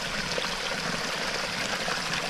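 Steady rushing water flows continuously, a broad close babble like a stream running through a channel, with no voices.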